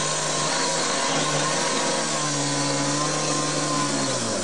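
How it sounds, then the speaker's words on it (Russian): Rescue workers cut through a barricaded metal door with a saw and an angle grinder, producing a loud, continuous grinding screech that holds steady and close throughout, with no voices. "Пришлось вызывать МЧС с пилой и болгаркой."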